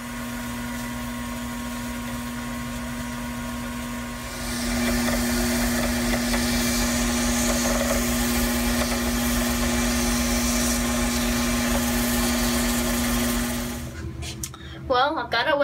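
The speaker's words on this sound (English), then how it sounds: "I'm going to start wet sanding to see how much shinier I can get it." A pen made from bowling ball material is wet sanded, with a steady motor hum and a continuous gritty scraping. The sound grows louder partway through and keeps a constant drone before stopping near the end.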